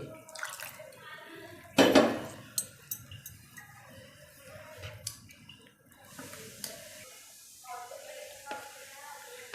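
Patishapta batter made with milk being mixed in a bowl: irregular clinks, taps and scrapes of a utensil against the bowl, with one louder clatter early on and quieter stirring after.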